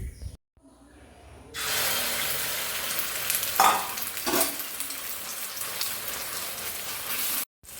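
Egg cracked into a hot pan for egg toast, then a loud steady sizzle of frying that starts abruptly and continues with a few sharper crackles and stirring clicks before cutting off.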